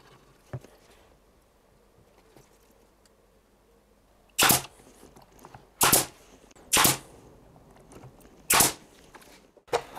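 A nail gun driving fasteners into wood while building a router table, firing about five sharp, loud shots at uneven intervals over a quiet workshop background.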